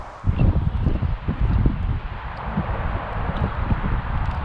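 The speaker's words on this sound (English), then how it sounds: "It's getting very, very windy and the rain is just about to get worse." Strong gusty wind buffets the microphone on a canal narrowboat near Buckby Bottom Lock, with a constant low roar and uneven rumbling, a steady rush like wind-driven rain underneath.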